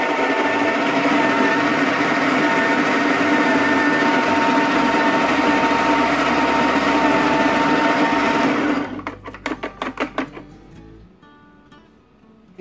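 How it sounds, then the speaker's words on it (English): A Gaggia coffee grinder grinds 100% Arabica beans in a loud, continuous close whir for about eight seconds, then sputters into rapid rattling bursts as the motor winds down and the beans run out. "Our grinder goes from 1 to 10 on its settings, and we're using it around about 3."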